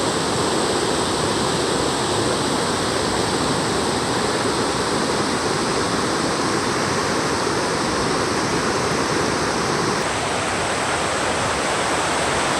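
A hidden waterfall in a forest on a tea estate gives a constant, full roar of falling water, dense and unbroken from start to finish, with no voices.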